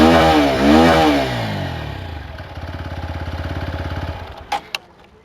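A 2022 TVS Apache RTR 160 4V motorcycle, shifted into neutral, revs up and falls back, then settles into a loud, close, pulsing single-cylinder idle before the engine cuts off, followed by a couple of sharp clicks.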